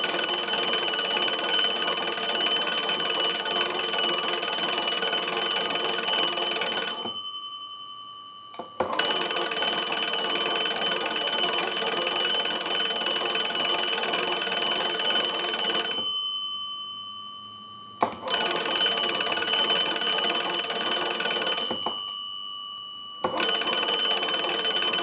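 A Kellogg wooden wall crank telephone rings its bell in long bursts separated by short pauses, four loud, sustained metallic trills with a bright, steady pitch.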